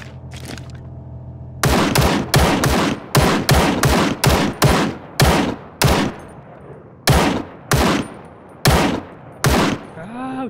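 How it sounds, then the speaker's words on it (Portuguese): Gunfire in the video game ROE, a PUBG-style battle royale: loud, close shots in quick bursts and single cracks with short gaps between them, about fifteen in all. "Ah, o tiro."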